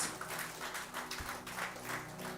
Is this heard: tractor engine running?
no